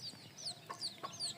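A native laying hen clucks quietly in a short string of soft, high notes, faint and alone.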